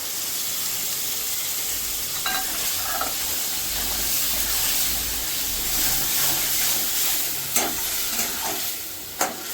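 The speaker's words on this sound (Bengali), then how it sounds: "এবার দিয়ে দেবো গ্রেট করা টমেটো।" Grated tomato hits a hot pan and fries with a steady sizzle and hiss, while a utensil stirs and scrapes, giving a few sharp clinks near the end.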